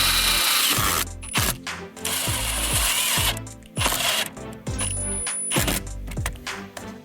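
Ratchet driving sheet metal screws while fitting a cabin air filter housing on a Pontiac Vibe or Toyota Matrix, close rapid clicking in repeated bursts with short pauses between strokes.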